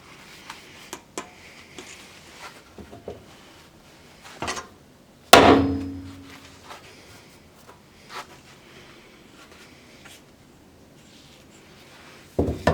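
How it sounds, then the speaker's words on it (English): A hammer taps a lawn mower mulch door into place: one sharp, ringing metallic strike stands out amid scattered light knocks and handling clatter, close and otherwise quiet. "just give it a little tap till it's on."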